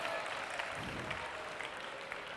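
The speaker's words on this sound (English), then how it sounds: "I also wanted to ask for a round of applause for my birthday" Faint, steady audience applause at a talk on financial inclusion, a soft wash of clapping that stays even throughout with no voices over it.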